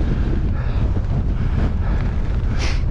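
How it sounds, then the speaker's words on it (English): Strong gale-force wind roars steadily across an exposed Scottish summit, buffeting the microphone loudly and continuously with no letup. "Blowing a gale."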